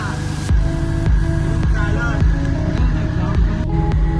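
An auto rickshaw carries passengers toward Vaishno Devi in the early morning, its small engine putting out a steady, close drone with regular rhythmic thumps and rattles throughout.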